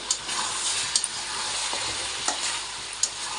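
Spicy goat meat braises in oil with a continuous close sizzle and frying crackle, broken by a few sharp clicks as a spatula stirs the pan, with no one speaking.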